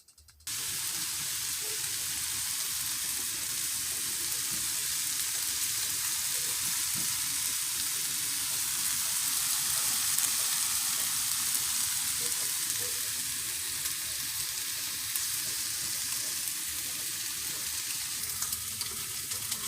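Cooked chicken sizzles in a pan over medium heat for chicken nachos, a steady close hiss and crackle that runs unbroken and evenly loud throughout, with no talking.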